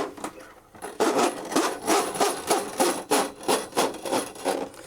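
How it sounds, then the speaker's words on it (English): A drain snake cable is fed down a drain, rasping and scraping in a steady rhythm of repeated strokes, close up and without speech. "what we're going to do is feed a snake down there"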